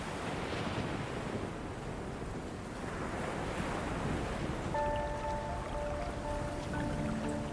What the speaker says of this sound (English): Huge icebergs calve into a stormy and fast-rising ocean.